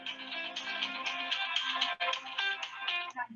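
A phone rings with a bright, repeating electronic tone that holds for about three seconds with a brief break midway, fairly clear and close in an indoor room.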